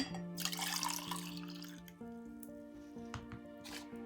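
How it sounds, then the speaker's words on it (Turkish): Hot water poured into a glass while making a pekmez and lemon drink, a steady close trickle with water and drip sounds running unbroken for about four seconds, no one talking. "Sıcak suyumu ekliyorum."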